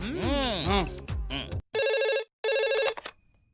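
A landline telephone rings twice in sharp electronic bursts on a callback, right after a stretch of talking, with a brief gap between the two rings.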